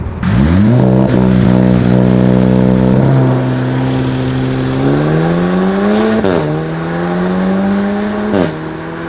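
A car with a DSG gearbox launches hard from a standstill, its engine revving loud and close with a steady drone and quick rising pitch steps as gears shift.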